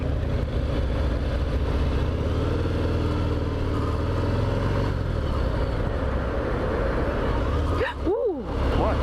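Harley-Davidson Fat Bob motorcycle engine on the move, a steady rumbling drone heard close from the rider's position with wind noise, ending in a brief rising and falling whine.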